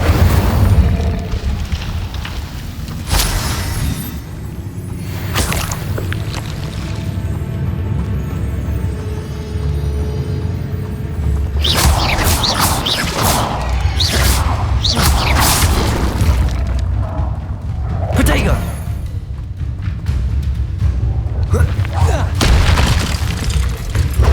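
Incendio fire spells go off in Hogwarts Legacy as repeated booming blasts and roaring bursts of fire, loud and dense through the whole stretch, with a voice speaking over the in-game combat.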